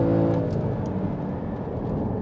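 A Porsche Cayman 981 GT4 on a race track, its engine droning loud and close from inside the cabin with a steady whirring tone that shifts slightly as the car changes down a gear.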